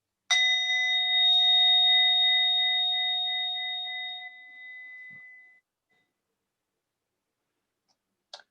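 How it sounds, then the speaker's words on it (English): A mindfulness bell rings through a small speaker: one clear struck tone with a second strike close behind, then a long, steady ring that slowly fades into silence, with a faint click near the end. "just listen to the bell coming in through the little speaker"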